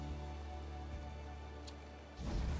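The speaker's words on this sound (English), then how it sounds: "Unfortunately it's raining" Steady rain falls in the video game Valheim, a soft, continuous hiss with a brief, slightly louder swell near the end and no voices.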